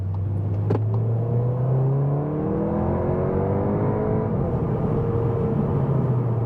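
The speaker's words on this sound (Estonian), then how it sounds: "Kiirendab nii kiiresti." A Seat Leon Cupra 300 with an automatic gearbox and a slightly modified exhaust accelerates hard, its engine note rising steadily through the gears in a continuous, close interior drone.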